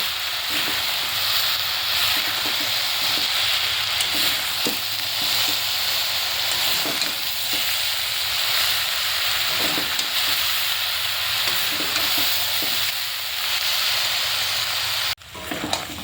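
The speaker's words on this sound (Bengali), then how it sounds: "এবার ভালো করে মশলাটা শাকের সাথে কষিয়ে নেব" Chilli, cumin and coriander powders fry with Malabar spinach in a pan, a loud continuous sizzle with steady scraping strokes of a spatula throughout, ending in a sharp clatter near the end.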